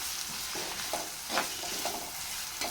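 Onions and curry leaves sautéing in a pan for an egg gravy, a steady close sizzle with soft scraping stir strokes recurring every second or so, no voices.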